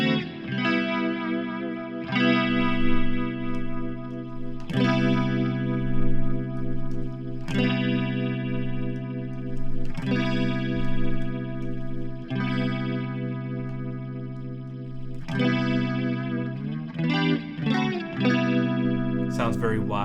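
Electric guitar chords strummed repeatedly through an Axe-FX III rotary speaker effect, swirling and wide with chorus-like modulation, loud and continuous.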